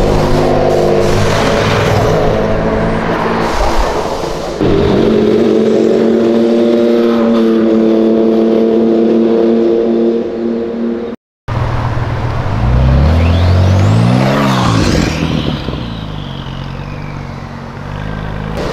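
A McLaren sports car revs hard on a São Paulo street during illegal street racing, loud, close engine roars climbing in pitch with gear changes, a brief cut, then another sharp high-revving sweep as it passes.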